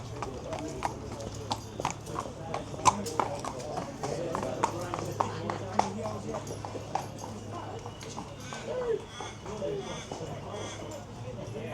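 Horses' hooves clip-clop in the pre-parade ring at Mornington Racecourse on Mornington Cup day, a busy, continuous patter of hoofbeats under people talking nearby.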